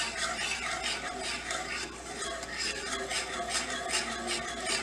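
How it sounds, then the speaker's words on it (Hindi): Milk being whisked steadily in a pan for homemade nacho cheese sauce, a soft continuous rhythmic scraping and swishing, close and fairly quiet, with no talking. "लगातार हमने इसको विस्क करते रहना है"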